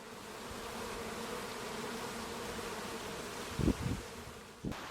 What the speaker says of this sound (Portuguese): os agricultores costumam usar abelhas criadas dentro da estufa